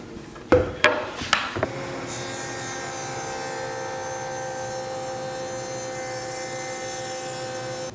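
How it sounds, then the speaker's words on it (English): A table saw with a dado stack cuts a 1/2 inch through dado across a wood panel, opening with a few sharp knocks before settling into a steady, loud, whining drone. "create a 1/2 inch dado, 3 3/4 inches from the top of the panel. And this is just a through dado. It goes all the way across the board"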